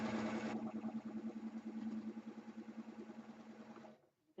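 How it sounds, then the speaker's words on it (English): Sewing machine chain-piecing a seam across quilt block pieces, a steady mechanical hum with rapid rhythmic needle pulsing that runs for about four seconds, then cuts off into near silence. "I'm going to sew in this seam here."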